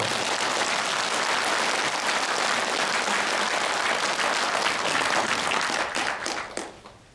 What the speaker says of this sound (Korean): 박수를 한번 보내주시죠.